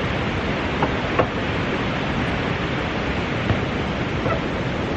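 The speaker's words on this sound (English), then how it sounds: "There's a river below me. You can hear it." River water flowing in a canyon below a suspension bridge, a steady broadband rush that fills the scene continuously, with a few faint footsteps or knocks on top and no talking.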